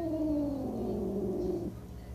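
A cat lets out one long, drawn-out, complaining meow lasting over a second while receiving a fluid injection, fairly quiet and close, with no talking over it.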